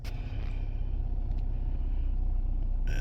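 A 2013 Ford Escape engine runs steadily at a low, even rumble, close and continuous with no talk over it.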